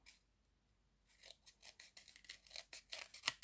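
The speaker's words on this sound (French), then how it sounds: "Ensuite, on vient prendre son ciseau. Et là, on vient faire couper un petit peu en biais comme ça." Scissors snipping paper at an angle while making a small notebook, a quick run of faint, close crisp cuts that grow slightly louder toward the end, with no talking.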